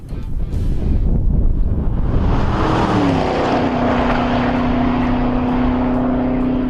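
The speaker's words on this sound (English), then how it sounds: "You go to blip the throttle, it does it instantly, there's no lag." Engine of a 2013 Chevrolet Camaro 1LE track-tuned car revving loudly and steadily, with a rising tone partway through and no pause in the roar.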